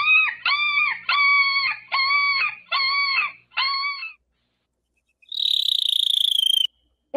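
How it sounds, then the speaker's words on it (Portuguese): A dog barks six times in a steady, evenly spaced series of clear yaps, followed by a silent pause and then a short buzzing insect-like drone. "esse som que apareceu antes parecia ser ali o som de um cachorro"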